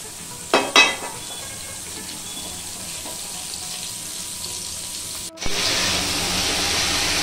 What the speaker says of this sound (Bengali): আলু ভাজা হচ্ছে লঙ্কা দিয়ে।